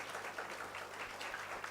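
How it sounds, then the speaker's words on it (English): Audience applause at an IMO Council meeting session, a steady wash of many hands clapping at moderate distance, quiet and continuous for a couple of seconds with no talk over it. "Let us give him a round of applause."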